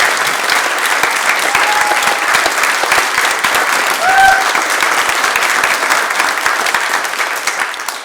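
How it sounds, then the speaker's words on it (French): A large audience at a Senate eloquence contest final claps loudly and continuously for a speaker, a dense sustained ovation of many hands that tapers slightly at the end. "On peut encore l'applaudir"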